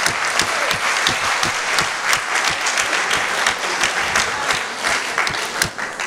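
An audience at a human rights league congress claps steadily, with dense sustained applause and a few louder individual claps standing out, and no speech over it.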